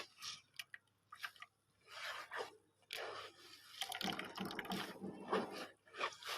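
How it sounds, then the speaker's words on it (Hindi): Wet wheat grain squeezed by hand to extract starch makes soft, intermittent squelches, drips and splashy bursts, faint and close, with brief quiet gaps between squeezes. "इस गंदम पे पानी डालेंगे और फिर इसको अच्छी तरह निचोड़ेंगे"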